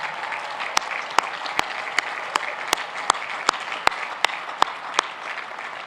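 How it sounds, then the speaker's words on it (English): Graduation ceremony audience applauds steadily for first-generation students, a broad wash of clapping with a few sharper individual claps standing out at regular intervals throughout. "Can everyone please give a round of applause to our first-generation students and those in the audience who have helped them."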